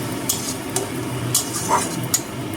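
Ginger-garlic masala sautéing in a pan for Bengali fish kalia, a steady low sizzle with several sharp spoon scrapes and stirring clinks, close up and with no talking.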